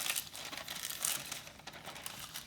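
Parchment paper crinkles and rustles as a sheet is spread over a large baking tray for pumpkin purée, a close, continuous papery crackle with soft taps, no talking.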